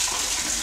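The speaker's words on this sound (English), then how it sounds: "Then I can see the water coming" Steady, continuous rush of water pouring down from the ceiling of a side tunnel under a trail, a broad even hiss with no talking.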